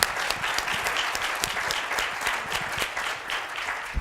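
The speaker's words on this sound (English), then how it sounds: "A round of applause." An audience applauds panelists at an education discussion, with steady, moderately distant clapping that carries on without break for several seconds.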